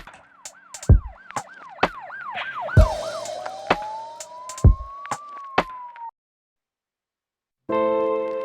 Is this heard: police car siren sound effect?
yes